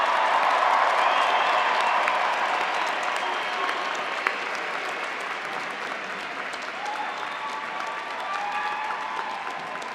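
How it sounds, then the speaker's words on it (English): Sustained applause from a large commencement crowd of graduates' families and friends at the Adelphi Class of 2022 ceremony, a steady dense wash of clapping lasting throughout, with a few cheers rising over it. "Let's give our class of 2022 a round of applause."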